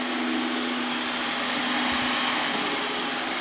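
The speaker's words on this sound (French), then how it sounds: "Monsieur adorable, il va aspirer tout l'appart" Vacuum cleaner with a laser attachment running while cleaning an apartment, a loud steady whirring drone with a high whine, close and unbroken throughout.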